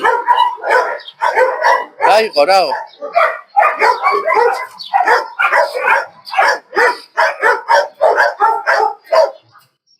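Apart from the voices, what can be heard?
dogs barking at a dog shelter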